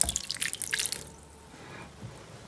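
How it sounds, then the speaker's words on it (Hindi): A thin stream of lukewarm water is poured onto yeast in a bowl for pizza dough, making a close, splashy trickle for about a second before it stops and a faint drip follows. "इसमें हमने थोड़ा सा नीम गर्म पानी डालना है।"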